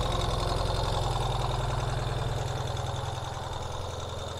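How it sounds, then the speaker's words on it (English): A 2023 Ural Gear Up sidecar motorcycle engine runs at a steady, close idle, a deep pulsing throb that eases slightly toward the end, with no talking. "Let's just flick on the key and we will just start it up so you can hear it run."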